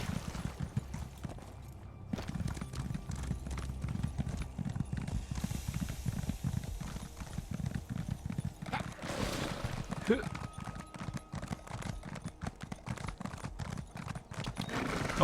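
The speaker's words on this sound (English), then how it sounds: "This is what happens when you max out your horse." Rapid, steady hoofbeats of a horse galloping at top speed in The Elder Scrolls Online drum on without pause, with a snort or whinny partway through and a voice speaking now and then.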